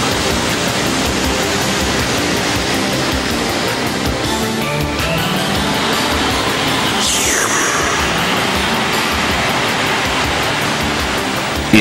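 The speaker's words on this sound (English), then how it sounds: "The resulting siphon sucks the water from the horizontal pipe." Water rushes loudly and continuously through a Geberit Pluvia siphonic roof drainage pipe under heavy flow, a dense roaring wash with a brief sucking surge partway through.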